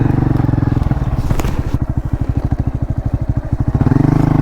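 A motorcycle engine idles and pulses close by, its rapid chugging beat steady while the bike is moved, with a brief clatter partway through.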